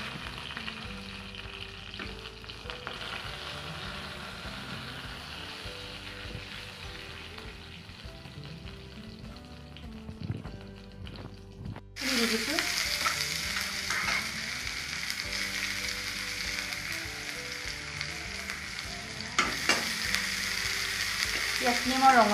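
Bay leaves, dried red chillies and a few five-spice seeds frying in hot oil in a wok, with a quiet, steady sizzle that jumps to a louder, busier crackle partway through.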